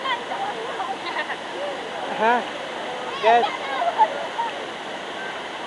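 Goyangan waterfall in Krucil roars steadily with rushing water throughout, a dense constant wash under people talking nearby.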